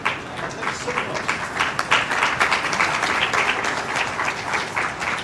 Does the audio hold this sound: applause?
yes